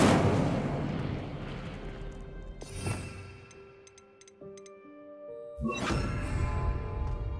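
Two sudden fiery whooshing bursts of the Incendio fire spell in Hogwarts Legacy, one midway and a louder one near the end, between quieter crackles and faint ticking game sounds.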